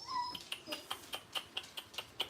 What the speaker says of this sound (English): Sorry about the barking. I apologize for that.